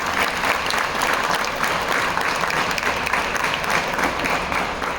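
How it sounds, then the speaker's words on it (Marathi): An audience at a Shivaji Maharaj birth anniversary event bursts into sustained applause, a dense, even clapping that holds steady throughout. "त्यांच्यासाठी टाळ्या."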